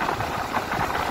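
A 2020 Honda XRE motorcycle engine running steadily during a night ride, a continuous mid-pitched drone with faint vibration, recorded close with a phone and slightly hissy.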